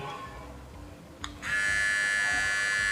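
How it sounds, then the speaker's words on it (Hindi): A boAt Misfit T50 Lite men's trimmer switches on after a click, its motor settling into a steady, close, high buzzing hum that continues to the end. "तो दोस्तों ट्रिमर के मोटर बेस की बात की जाए तो आप यहाँ पर देख सकते हो"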